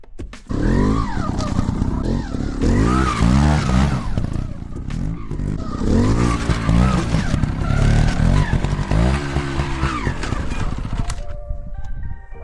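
A dirt motorcycle revs and lugs as the rider tries to climb onto an undercut rock ledge, its engine note surging and bogging in repeated bursts, close and loud throughout.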